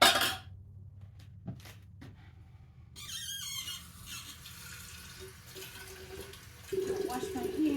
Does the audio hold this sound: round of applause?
no